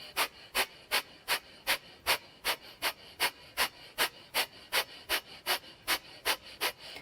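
Rapid breath-of-fire breathing with forceful belly-pumping exhales, roughly three sharp puffs every second in a steady, even rhythm, close and alone for the whole stretch.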